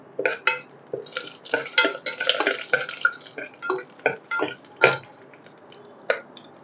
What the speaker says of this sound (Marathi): तर हे आपण तेलात टाकून देऊया.